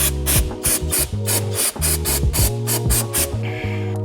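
Acetone is sprayed from a hand spray bottle in a quick run of about eight crisp, hissing squirts. The trigger clicks audibly with each pump, loud and close, with no voices.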